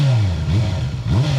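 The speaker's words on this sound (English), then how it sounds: "got quite a nice exhaust note, actually, quite deep, until it gets screaming up into the revs" A 2026 Honda CB650R's 649cc inline-four engine blipped through its exhaust, deep quick revs rising and falling twice in close succession, loud and near.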